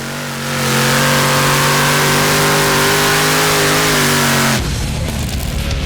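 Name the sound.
pulling tractor engine revving at Danish championship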